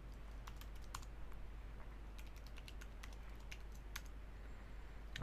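A password is typed on a computer keyboard, quiet bursts of clicking keystrokes in short irregular runs over a low steady hum, faint and alone without speech.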